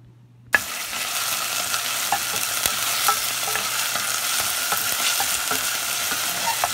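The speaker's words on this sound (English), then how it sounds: "then I start sauteing it" Cubes of beef chuck sauté in a tablespoon of oil in a pan for a spicy stew, a steady close sizzle with scattered crackles and stirring scrapes, starting abruptly and holding even throughout.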